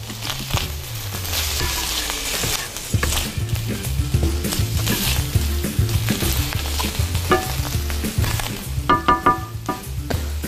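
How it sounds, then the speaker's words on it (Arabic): Chicken piccata with mushrooms being stirred and sizzling in a pan, a continuous frying hiss broken by repeated utensil scrapes and clinks against the pan, close and fairly loud. "هنديله برده تقليبه"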